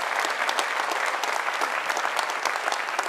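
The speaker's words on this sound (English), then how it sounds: "it wasn't just the media applauding that, what I said there" A press-conference audience at the 2015 Labour Party manifesto launch breaks into dense, sustained applause, loud and close, with no speech over it.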